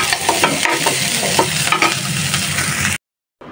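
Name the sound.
tempering dal with cumin, chopped garlic and onion sizzling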